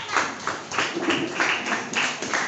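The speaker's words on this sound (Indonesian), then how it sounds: "Tepuk tangan dulu buat kelompok 6" A small group of participants at an academic coaching workshop claps for group six, a short, thin round of applause with uneven bursts of hands, fairly faint and close.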